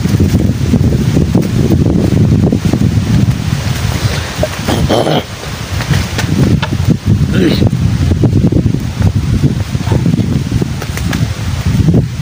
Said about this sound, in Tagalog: masyadong malakas yung hangin dito